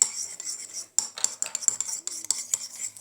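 Homemade slime being stirred in a container makes wet, sticky clicks and scraping taps in quick irregular bursts, close up, with faint whispering in the background.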